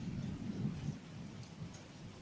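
Heavy rain pours steadily with low rumbling thunder underneath, a dense close wash of rainfall heard from under a shelter during an electrical storm, with no talking.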